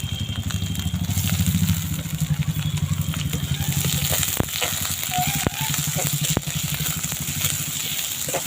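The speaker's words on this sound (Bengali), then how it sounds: "ফোড়নের উপরে দিয়ে দিলাম পেঁয়াজ" Onion hits hot oil tempered with whole spices, giving a loud, dense sizzle with rapid crackling and a few clinks of a spatula stirring in the pan.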